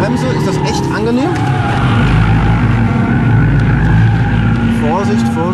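An Audi RS3 8Y on a track with ESP off brakes hard, its engine roaring with gear whine, tire squeal and strained whirring noises from the front differential. Someone talks over it.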